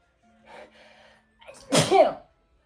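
A single sharp human sneeze bursts out after a short indrawn breath, close and loud against an otherwise quiet room, with faint vocal sounds just before it.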